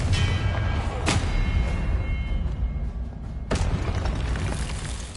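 Confringo spell explosions in the Hogwarts Legacy video game, two sharp booming blasts over a dense roaring background of battle noise.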